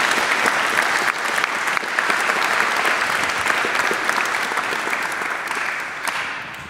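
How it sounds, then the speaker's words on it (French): Sustained audience applause after speakers at a French public talk on quantum science, a dense steady wash of many hands clapping for several seconds, tapering slightly at the end. "les applaudissements dans tous les orateurs"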